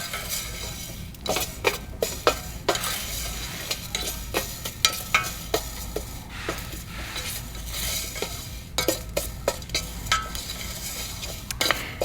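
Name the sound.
fenugreek seeds being roasted and stirred in a pan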